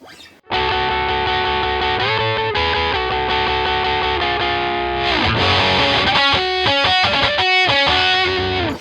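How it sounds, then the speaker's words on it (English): Distorted electric guitar playing a part through a single distortion pedal, with sustained heavy chords and then choppy rhythmic stabs, loud and close with no voices. "You can pretty much use one distortion and just really rely on manipulating the volume that you've got."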